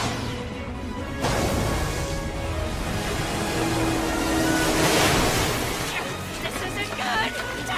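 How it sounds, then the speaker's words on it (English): In the video game World Destruction, a boat speeds across open water, with a continuous rushing wash of waves and wind that swells and ebbs, loud and close throughout. "Where'd you get that boat from, Kuma?"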